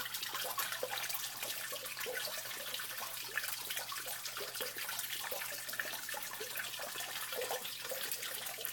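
Water washes continuously through a small pump-fed mini sluice used for fine gold recovery, a faint, steady rushing and trickling with a low constant pump hum beneath it and no talk.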